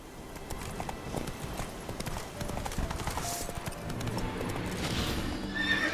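In the video game The Witcher 3: Wild Hunt, Roach the horse approaches with steady clip-clop hoofbeats over soft game ambience, growing gradually nearer, with someone briefly speaking.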